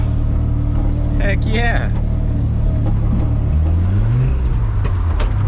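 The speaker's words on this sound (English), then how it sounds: "But dude, she's running. Running and driving." A 1979 Mazda RX-7 rotary engine runs steadily while the car drives around a yard, with a loud low rumble that rises in pitch as it revs. A person speaks briefly over the engine.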